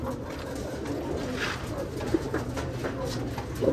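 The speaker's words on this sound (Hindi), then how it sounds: "ये देखो जी गोल्डन आइस का कबूतर है माशाल्लाह से" Pigeons coo softly in low, throaty murmurs over a steady background hum, with a few louder coos near the end.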